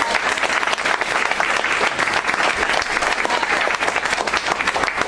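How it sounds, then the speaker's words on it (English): Sustained applause from a crowd, steady dense clapping throughout at moderate loudness with no break. "so we could all give a round of applause"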